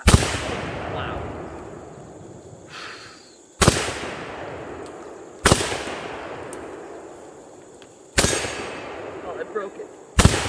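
A Saiga 12 shotgun fires magnum rounds in four loud, sharp blasts spaced a few seconds apart, each with a long decaying echo, and the shooters chatter excitedly between shots.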